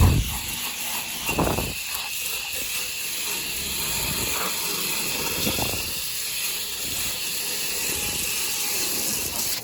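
Water hose spray rinsing dirty AC condenser coil panels during a tune-up, a steady broadband hissing wash with slight shifts as the stream moves across the fins, close and continuous without talk.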